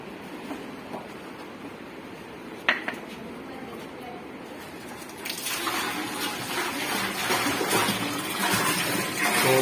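Water pours steadily into the stainless steel bowl of a humic acid making machine, a broad rushing splash that grows louder partway through, with a short metallic clank before it.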